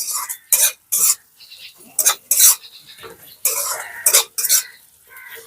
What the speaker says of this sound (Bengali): এবারে সবকিছু দিয়ে মশলাটাকে একটুখানি কষিয়ে নিতে হবে